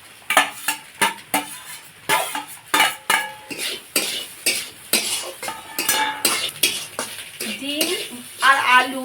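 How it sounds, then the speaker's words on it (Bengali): Pre-fried egg and potato are tossed into leftover rice in a pan, with a rhythmic run of sharp spatula clinks and scrapes against metal over a faint sizzle, close and loud. "এখন এর মধ্যে দিয়ে দেব আগে থেকে ভেজে রাখা ডিম আলু"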